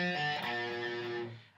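A short phrase of a riff on electric guitar, with a pull-off between notes on a lightly distorted tone that lets the last note ring briefly before fading.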